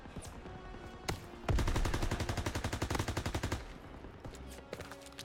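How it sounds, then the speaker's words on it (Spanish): In Call of Duty WWII, a loud sustained burst of rapid automatic gunfire rattles for about two seconds, framed by single sharp shots and battle noise, with no talk. "Me disparan de todo, además."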